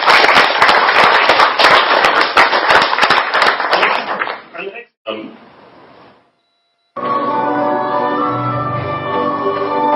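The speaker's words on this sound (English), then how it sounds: "Can I just start a round of applause for that?" An audience at a Doctor Who fan convention talk breaks into dense, loud applause for about four seconds. The clapping fades into quieter sounds and then a pause before other sound resumes.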